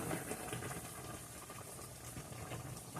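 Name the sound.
gravy boiling rapidly in a pot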